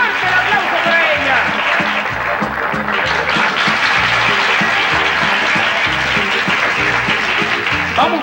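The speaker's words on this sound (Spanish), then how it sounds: "fuerte el aplauso para ella" Loud, dense crowd applause for a newly crowned beauty queen at a pageant, sustained clapping throughout with rhythmic music and voices mixed underneath.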